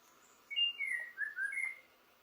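White-rumped shama (murai batu) singing a short, clear phrase of several sweet, whistled notes that slide up and down, close and alone against a quiet background.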